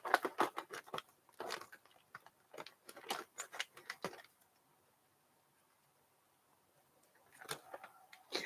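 Quiet, close crinkling and snipping as scissors cut through a rustling coffee bag, then a pause before more rustling.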